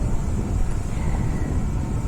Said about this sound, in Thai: ลมแรงมากครับ จะได้ยินแต่เสียงลม